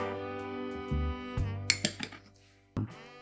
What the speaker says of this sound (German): mische ich in einem anderen Gefäß 50 Gramm Puderzucker mit etwas Vanillemark und einem Päckchen